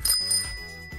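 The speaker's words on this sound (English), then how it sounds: "Bicycle." A bicycle bell gives two quick bright rings close up, each ding ringing out with a clear metallic tone that fades over the following second.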